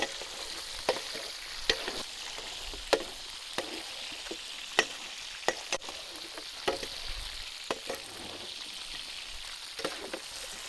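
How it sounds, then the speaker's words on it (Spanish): Iberian chorizo and longaniza sausages fry in a paella pan in Montilla, Córdoba, with a steady close sizzle broken by sharp, irregular clicks and taps of stirring. "Añadimos los choricitos y las longanizas ibéricas"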